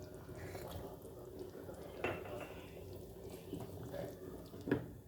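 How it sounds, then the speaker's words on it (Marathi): Mutton curry bubbling at a boil in a pot, with soft steady simmering and occasional faint clinks and pops of utensils, heard under someone talking nearby. "बघा उकळी फुटायली आहे कशी भारी"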